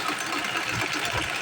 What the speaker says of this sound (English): I will sew.